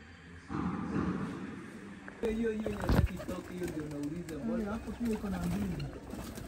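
Pigeons coo in low, rolling calls near a building under renovation, repeating through the clip alongside background noise, with a sharp thump partway through.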